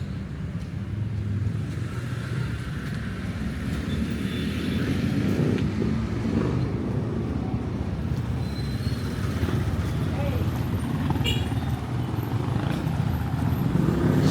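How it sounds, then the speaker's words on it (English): Busy city street traffic on Aniceto Street in Angeles City, a continuous roar of passing vehicles and engine rumble that stays loud and steady throughout, with brief higher whines from passing motors. "I'm on the busy street over here. I think that's Aniceto Street, so there's a lot of noise and traffic."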